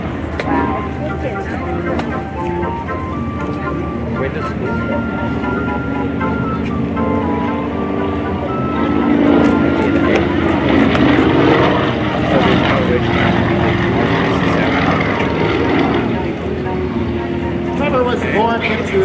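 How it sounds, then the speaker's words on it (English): A Pitts Model 12 aerobatic propeller plane roars close by at an air show, its engine pitch rising and falling as it maneuvers through a flat spin, with a voice talking over it. "big round of applause for Trevor Rafferty in the Pitts Model 12 performance class, the incredible flat spin."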